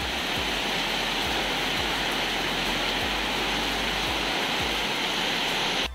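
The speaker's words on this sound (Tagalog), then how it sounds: "Grabe! Ang lakas ng ulan." Heavy rain pours down steadily and loudly throughout, a dense, continuous hiss of downpour with no voices, caught outdoors during a sudden storm on a papaya harvest outing.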